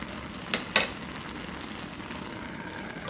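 Kimchi stew with Spam bubbles in a pot, a steady close simmer with a soft hiss and two brief clinks early on.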